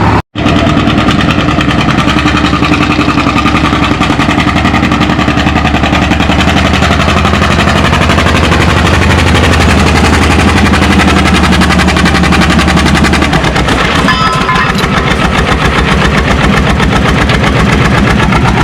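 A John Deere A tractor's engine chugs loudly and rapidly under strain at a tractor pull, its rhythmic popping exhaust close and continuous, with the pitch shifting partway through.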